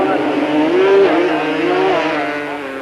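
Yamaha Banshee quad bikes race in a 1997 Super Series event, their two-stroke engines whining and rising and falling in pitch as they rev hard and pass close by.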